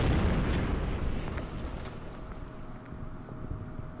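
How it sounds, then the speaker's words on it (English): Artillery fire in the strategy video game Order of Battle: a fairly quiet rumbling blast at the start that fades into a low, windy roar, with small pops scattered through it. "Fresh artillery down here."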